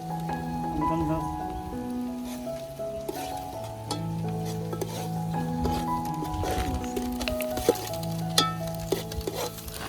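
Onion fries in a pan over an open wood fire in a forest, crackling and sizzling steadily throughout. Shifting tonal noise runs underneath, and there are occasional clinks and a few faint background voices.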